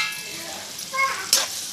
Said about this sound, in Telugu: ఉల్లిపాయ ముక్కలు వేసుకున్నామండి.